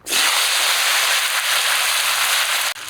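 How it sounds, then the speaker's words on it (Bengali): Cut winter vegetables hit hot oil with cumin tempering in a wok and break into a loud, even hiss of sizzling that holds steady for nearly three seconds, then drops off briefly at the end. "সবজিগুলো তো কেটে ধুয়ে রেখেছি এবার ফোড়নের উপরে দিয়ে দিব"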